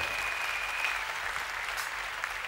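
Church congregation clapping together in a thick, steady roar of applause that stays even and close, with a faint voice blended in underneath.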